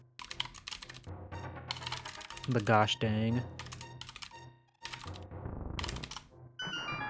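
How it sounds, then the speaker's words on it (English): Rapid clacking on a computer keyboard runs in bursts throughout, close and fairly prominent, with a person talking over parts of it. "Sorry about the typing noises there."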